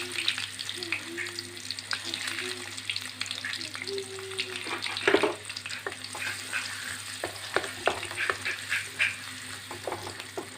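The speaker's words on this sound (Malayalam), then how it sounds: "നമ്മൾ ഇവിടെ എണ്ണയൊക്കെ ചട്ടിക്കകത്ത് വെച്ച് ചൂടായിട്ടുണ്ട്" Chopped ginger and garlic fry in hot oil in a pan, a steady crackling sizzle with scattered sharp pops and stirring scrapes throughout, close and continuous.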